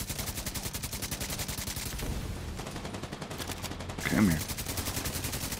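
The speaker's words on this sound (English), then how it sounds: "Enemy taking fire." Rapid bursts of gunfire from the video game Tom Clancy's The Division 2, steady repeated shots throughout with a brief louder burst near the end, under a short spoken line.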